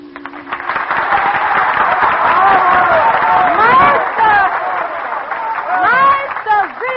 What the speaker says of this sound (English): The applause, it is all for you, for your wonderful lullabies